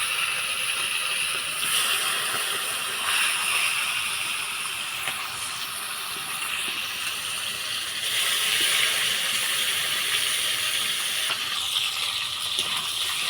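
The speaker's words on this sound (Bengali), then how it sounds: "এখন আমি মাংস মাছের মতো ভেজে নিব।" Chicken pieces frying in hot oil for a Bengali chicken dish, giving a steady, bright sizzling hiss that holds at an even level throughout with faint crackles and no voices.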